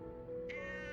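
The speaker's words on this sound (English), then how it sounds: "Then my cat is not happy right now" A single house cat lets out a short, clear meow, close by and moderately loud over a low steady hum in the room, with no voices.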